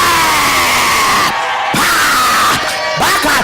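A church congregation rises and shouts in a loud, dense roar of many voices, with cries and screams swelling and briefly dipping before surging again.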